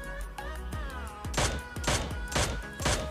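Mini 14 rifle shots in PUBG Mobile, a handful of sharp, evenly spaced single cracks with short echoing tails, loud and close over faint game ambience.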